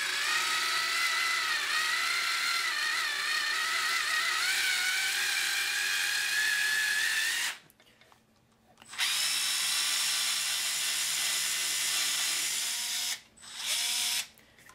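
A Black & Decker Gyro electric screwdriver whines steadily while driving screws into particle board, its pitch rising under load, then stopping briefly and restarting for a second shorter burst, close and loud with no talk.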